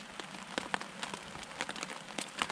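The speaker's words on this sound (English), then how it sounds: "Even though it's raining, it's just still really nice." Rain falls through woodland during a spring morel mushroom hunt, a faint, uneven patter of separate drops ticking on leaves and ground close by.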